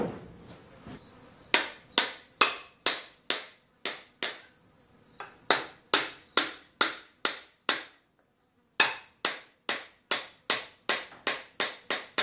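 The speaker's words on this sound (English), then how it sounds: "Should use a steel hammer." Sharp metallic hammer blows ring out in irregular bursts of quick strikes, close and loud, with short pauses between groups, as parts are hammered during assembly of an Atlas power hammer.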